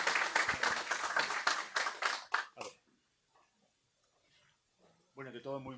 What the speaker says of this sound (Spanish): Por favor, recibiámoslos con un fuerte aplauso.